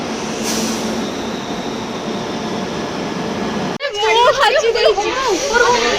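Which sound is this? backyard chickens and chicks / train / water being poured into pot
train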